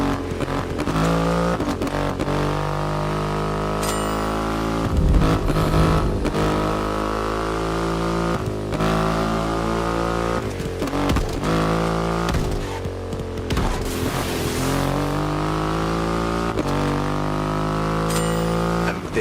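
A Triumph Rocket 3 motorcycle with its 2.5-liter engine revs in the racing game The Crew Motorfest, a loud, continuous engine roar that rises and falls in pitch through repeated throttle surges for about nineteen seconds, with no talking.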